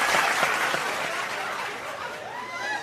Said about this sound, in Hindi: बच्चे भी ताली बजा रहे